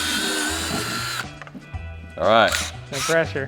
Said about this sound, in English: now we're gonna go back in and drill out the holes to the 1/4-inch size needed